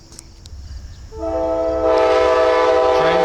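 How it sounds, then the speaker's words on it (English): An Amtrak Lake Shore Limited passenger train's horn blares loud and sustained, joined by rumbling rail noise as the train pulls in close. "my train's almost here"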